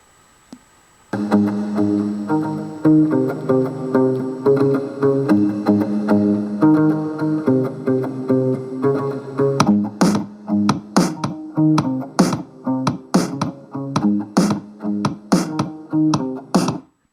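A small Westinghouse Unplug Bluetooth speaker plays music at maximum volume: a steady melodic passage with sustained tones, then punchy rhythmic beats with sharp repeated hits, loud and close.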